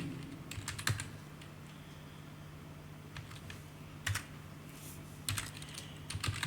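Keys clatter in short irregular bursts of typing on a computer keyboard, with pauses between, over a faint steady hum.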